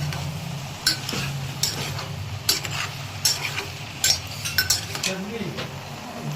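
Bitter gourd frying in a dry pan with no oil, a steady low sizzle under repeated sharp metallic spatula scrapes and clinks as it is stirred, close up with no talking.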